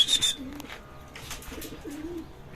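Pigeons coo softly in two low, rolling bursts, with faint bird chirps and light background noise around them.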